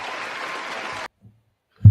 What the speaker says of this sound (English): Round of applause because if I still have the applause button